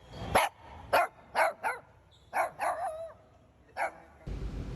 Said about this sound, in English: That's the cutest dog.